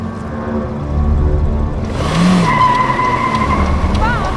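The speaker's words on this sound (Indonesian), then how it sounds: "Dennis dan Leonard diam-diam masuk ke dalam mobil tersebut kemudian tancap gas." A car speeds away in a film scene, engine revving loud and close with a whirring rise and tires skidding briefly partway through, under dramatic score and effects.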